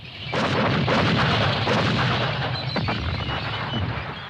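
A sustained artillery barrage opening a night attack in the 1975 Vietnam War, heavy rumbling booms rolling continuously, loud and dense, with a few sharper blasts standing out and no voices.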